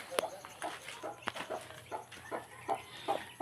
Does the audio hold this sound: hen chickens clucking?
yes